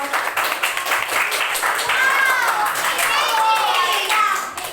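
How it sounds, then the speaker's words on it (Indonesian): A classroom of students applauding a group after its presentation during a teaching practice lesson, a dense steady patter of many hands with children's voices and cheering mixed in throughout. "tepuk tangan untuk kelompok 2"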